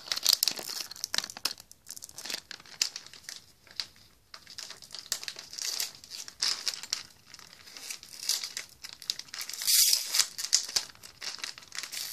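Crinkly plastic packaging of a Lego Hidden Side magazine being torn open and handled, with bursts of crumpling and rustling up close throughout, briefly pausing before a louder tearing rush near the end.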